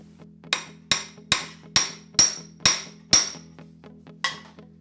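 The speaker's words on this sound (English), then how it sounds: "I'll try hammering it and seeing what happens." Eight sharp hammer blows ring out at a steady pace as a tight-fitting part is hammered into a hole in a wooden weight plate rack, each striking with a woody knock and a short ringing decay, close and loud.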